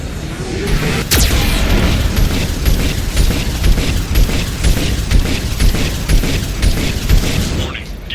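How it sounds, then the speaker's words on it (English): Loud, rapid booming blasts of a Geth cannon in Mass Effect 2 fire in a continuous barrage, heavy and close, with one sharp crack near the start and rumbling throughout. "Warning, Geth cannon is locking on our location."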